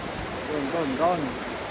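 Steady rushing water from Fukiware Falls, running strong enough to close access, forms a broad continuous roar while a voice is briefly heard over it.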